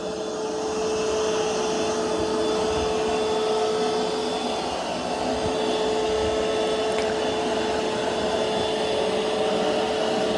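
A Curv 2 robot vacuum works over carpet with its side brushes spinning, a steady loud motor whir and airy hiss running unbroken, no voices.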